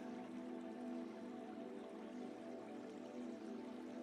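A continuous, soft rush of falling water from a waterfall, steady and even throughout, faint and distant-sounding with no voices.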